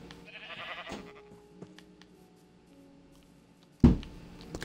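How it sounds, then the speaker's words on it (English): Sheep bleat in the Minecraft video game, a harmonic bleat near the start with a sharp thump later, over sparse game ambience. "Ooh, brown sheep."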